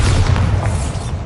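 A Bombarda blasting spell explodes in Hogwarts Legacy, a loud, sustained booming rumble heavy in the low end that holds steady for about a second before easing slightly, with no talking over it.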